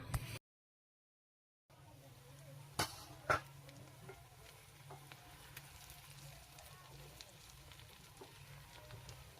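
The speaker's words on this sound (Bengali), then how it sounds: "তবে এভাবে করেই কিন্তু মাছের তেলটা আমি ভাজি" Rohu fish fat and onion frying in a pan, a steady close sizzle with a few sharp pops and spatters, briefly cut to silence near the start.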